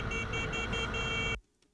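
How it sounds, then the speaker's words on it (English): A sustained, buzzy car horn blares loudly and continuously, then cuts off abruptly into near silence. "Continually a honk doesn't do anything."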